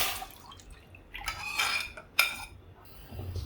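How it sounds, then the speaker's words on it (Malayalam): Ground tomato puree is poured into a pan while making tomato ketchup, with wet dripping and splashing and a couple of metallic clinks from the pan and utensil. The sounds are close, soft and brief. "അരച്ചെടുത്ത ടൊമാറ്റോ ഇതാ നല്ല കളറൊക്കെ ഉണ്ട് അത് നമുക്കൊരു പാനിലേക്ക് ഒഴിച്ചു കൊടുക്കാം"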